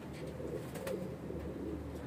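Golden pigeons in a breeder's loft give soft, low cooing that runs steadily through the whole stretch, close by and moderately quiet, with faint background noise.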